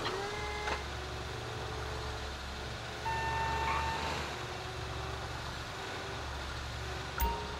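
A container handler vehicle backs up at a shipping port in Grand Theft Auto 5, its reversing alarm beeping steadily in a repeated pattern over a low engine drone, fairly faint and unaccompanied by talk.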